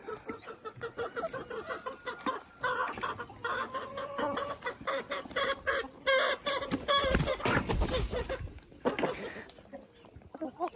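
Chickens cluck busily and continuously nearby, overlapping short calls with a few louder squawks in the middle, no talking.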